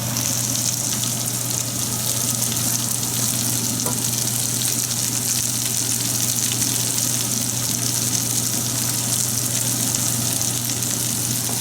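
Masala rice ingredients fry steadily in a pan, a continuous loud sizzle with faint stirring scrapes and no talking.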